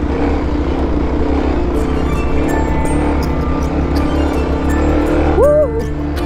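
A Kawasaki KLX250 dual-sport motorcycle held at full throttle in first gear on a rocky trail, its engine roaring loud and steady with clanks and knocks over it and a short rising whine near the end.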